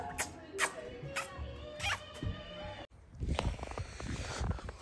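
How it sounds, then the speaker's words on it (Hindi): A cat meows repeatedly outside a room at night, several drawn-out cries in a loose rhythm, followed by a rustling, crowded-sounding stretch of noise; the cries are fairly close and clear. "गाइस बिल्ली रात को आई है रूम के बाहर जाओ मत"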